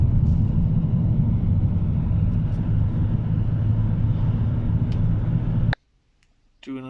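A Renault/Nissan 2.0 dCi diesel car engine runs after a glow plug change, giving a steady, close low rumble that cuts off abruptly near the end.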